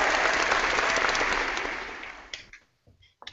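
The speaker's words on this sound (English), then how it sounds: "Alright, here's the applause." Recorded crowd applause from the WWE SmackDown vs. Raw 2010 Wii game, a dense burst of clapping and cheering that fades out over a couple of seconds, followed by a few faint clicks.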